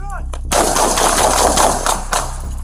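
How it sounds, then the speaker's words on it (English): Police gunfire during a knife confrontation: a loud, rapid burst of several shots fired close by, packed tightly over about a second and a half, followed by a final shot. "shots fired"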